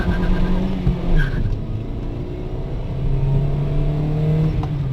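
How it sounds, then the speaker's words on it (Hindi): Toyota Etios car accelerating hard in first gear during a pickup test, a steady engine rumble that swells as it revs up, loud and close throughout with no talk. "अब मैं इसका पिकअप चेक करता हूँ भाई"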